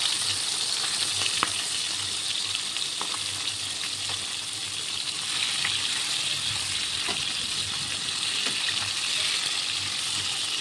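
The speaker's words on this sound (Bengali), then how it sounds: "ও মাছও কিন্তু তেলের মধ্যে ছাড়িয়ে দিছে একটা একটা হারিয়ে।" Fish pieces fry in hot oil with a steady, close sizzle throughout, and a few faint clinks and stirring sounds come through now and then.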